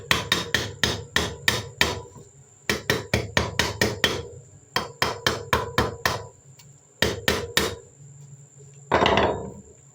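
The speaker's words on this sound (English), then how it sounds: "let's use your new hammer you gave me." Rapid bursts of hammer blows in a workshop, sharp metallic strikes in quick groups of five or six separated by short pauses, close and loud.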